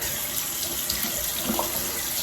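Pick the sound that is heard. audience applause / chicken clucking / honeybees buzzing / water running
water running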